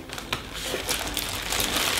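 Protective packaging crinkles and rustles close by while a large, heavy keyboard is unboxed, a steady papery crackle running for about two seconds with a few sharper crunches.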